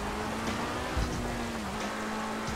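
Steady rain hisses over a road in the video game GTA 5 while a car drives through it, a continuous wash of drops under a low engine hum, with no talking.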